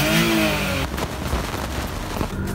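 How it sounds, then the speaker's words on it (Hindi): A warm 660cc Daihatsu Mira ES engine revving as the throttle is blipped: a loud, rising buzz that cuts back after about a second, then settles into a rougher, uneven idle close to the microphone. "थोड़ा सा मैं फिर से थ्रॉटल वैसे देता हूँ"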